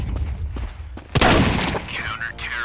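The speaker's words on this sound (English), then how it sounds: "Pimp Willy will hear that dual Beretta sound" Dual Beretta pistols fire in a Counter-Strike 2 match, a few sharp close shots and a louder burst of gunfire under excited commentary from a caster.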